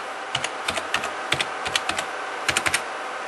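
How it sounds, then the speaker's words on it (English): Someone types a password on a computer keyboard, producing a few quick clusters of crisp, close key clicks separated by brief pauses, with no talking. "type in my password"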